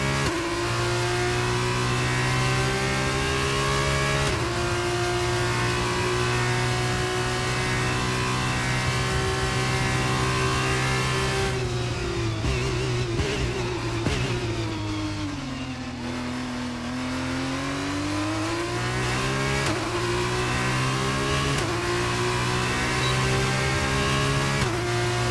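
Formula 1 race car engines scream continuously in the F1 23 game at a Saudi Arabia round. A loud, steady high-pitched whine holds for long stretches, then dips and climbs again as a car slows and accelerates, with no talk.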